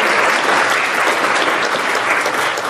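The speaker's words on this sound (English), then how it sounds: "So let's give them a round of applause" An audience of local government attorneys and guests applauds steadily at a government meeting, a dense, even wash of many hands clapping that holds at full strength for the whole stretch with no voices over it.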